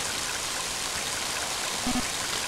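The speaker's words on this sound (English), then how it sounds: "Mighty heavy rain, isn't it?" Heavy rain in Mother 3 pours down as a dense, steady hiss that stays constant, loud and close, with no talking over it.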